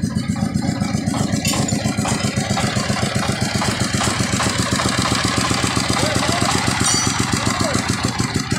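A broken-down motorbike's engine runs close and loud, putting out a steady, rapid idle rhythm that continues throughout.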